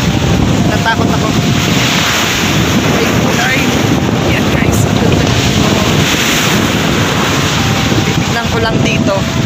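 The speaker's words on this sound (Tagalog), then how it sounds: "Nakakatakot kasi sobrang ang lakas ng hangin." Strong typhoon wind roars constantly against the microphone by the sea, with a steady rush of waves beneath it the whole time.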